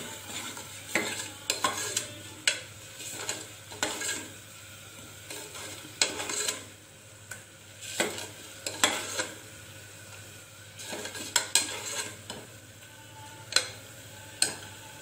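Spices roast in a pan for chole, giving a steady low sizzle broken by sharp, rhythmic scraping strokes of stirring, close and moderately quiet, with no talking.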